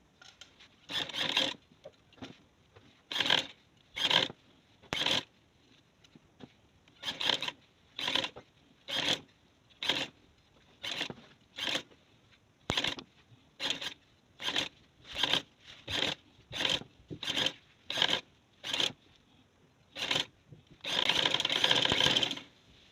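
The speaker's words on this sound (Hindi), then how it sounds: "तो फिर मैं सिलाई लगाती हूँ इसके ऊपर। ये हमने किनारे पे सिलाई लगानी।" A sewing machine stitches along the folded edge of a fabric strip for ring-design sleeves. It runs in many short, repeated bursts with pauses between them, and a longer run comes near the end. No voices are heard.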